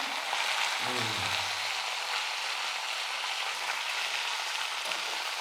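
Mint leaves sauté in oil in a small kadai, giving a steady close hiss of frying, with a brief tonal sound near the start and no voices.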